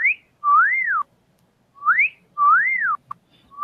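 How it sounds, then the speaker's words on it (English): A whistle blown in a podcast studio gives loud, sliding tones that swoop up and down in repeated wavering phrases, with short gaps between them and no talking. "Roll out your whistle."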